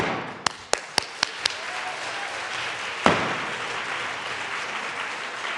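A state House chamber in Colorado fills with soft applause after a vote passes, a broad, steady patter of many hands with several sharp gavel-like raps early on and one louder knock midway.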